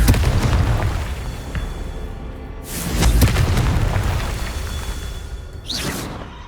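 Explosions from the Confringo blasting spell in the Hogwarts Legacy video game, two heavy booming blasts a few seconds apart with rumbling decay and a sharper crackle near the end, loud and without speech.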